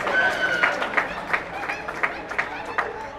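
A seated audience at a drumming event claps briefly, with a few distinct, fairly sparse claps and light crowd noise over a short stretch.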